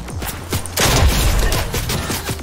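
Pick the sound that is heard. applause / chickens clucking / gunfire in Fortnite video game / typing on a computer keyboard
gunfire in Fortnite video game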